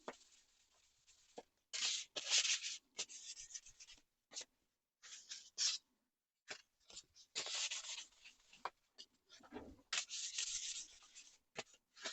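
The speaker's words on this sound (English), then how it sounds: "it's not doing any polishing, it's just rubbing, grime away" A small 7-inch Moore & Wright engineer's square is rubbed clean of grime, producing quiet, close, intermittent scratchy strokes in short bursts separated by silences.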